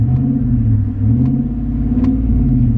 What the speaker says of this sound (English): I am honestly surprised with the way this truck sounds.